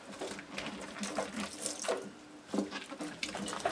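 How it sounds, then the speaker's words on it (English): Water trickling and splashing in a sink as a rinsed rabbit hide is squeezed down to drain, with uneven wet bursts close by and no talking. "I'm kind of just squishing it down so that it comes out the bottom."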